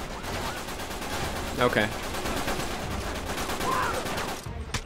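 Gunfire in Uncharted 3 multiplayer, a blind-fire weapon, rattles continuously as dense, steady automatic fire under a brief spoken word.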